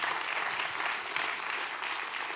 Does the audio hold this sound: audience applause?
yes